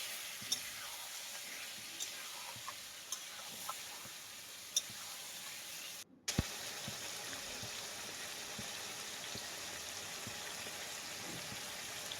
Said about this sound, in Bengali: তার জন্য ভালো করে একটু আগের থেকেই মশলাটা কষিয়ে নিচ্ছি মাছের সাথে